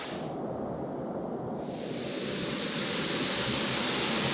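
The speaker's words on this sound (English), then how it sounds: "as the water comes down through the rocks, it sort of makes this little wind tunnel" Waterfall water pouring down through rocks at an eco park in the Philippines, a steady, broad rushing roar that holds close and continuous throughout and swells slightly louder toward the end.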